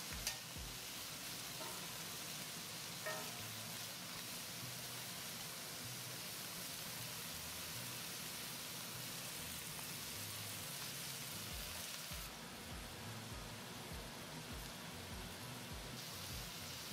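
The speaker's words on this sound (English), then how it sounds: "Once the shell turns golden orange in color, flip them over and fry the other side." Prawns sizzle and crackle in hot oil in a wok for a Chinese-style stir-fry, a steady, dense frying hiss lasting throughout with small pops, close and fairly loud, with no talking.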